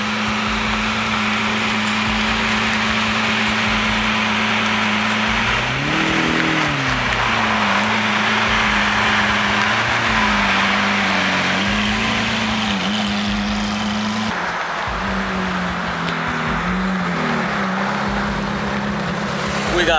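Loud straight-piped Ferrari 458 engine revving steadily at close range, its pitch rising and falling in several swells over a constant heavy drone.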